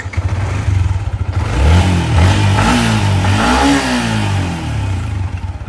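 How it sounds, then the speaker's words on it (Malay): A used secondhand motorcycle engine with about 8,700 km on it, idling up close, then revving up and back down in two smooth swells before settling to a steady idle. "untuk bunyi motor ni, jom kita dengar"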